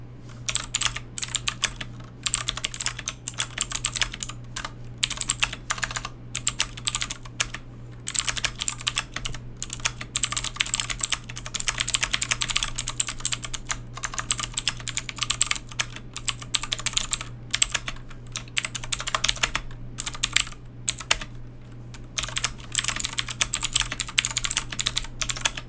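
Steady, fast typing on a MageGee MK-Box 65% mechanical keyboard with blue clicky switches, sharp close clicks in continuous bursts with brief pauses, over a low constant hum.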